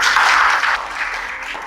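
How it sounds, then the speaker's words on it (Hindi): A seminar audience at a real estate talk bursts into loud, close applause, a dense wash of clapping across a short moment. "एक बार जोरदार तालियां इसके लिए"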